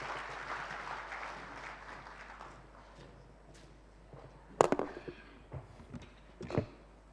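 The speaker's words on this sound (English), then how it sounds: "Let us please give him a warm, warm round of applause." Audience applause fills a conference hall at an official opening, moderate steady clapping that fades over several seconds, followed by a few sharp knocks and handling thumps nearby.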